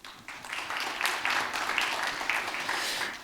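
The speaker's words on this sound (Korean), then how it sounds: "박수 부탁드립니다" A small audience at a Korean literary award ceremony gives soft, scattered applause, faint and fairly distant, lasting a few seconds.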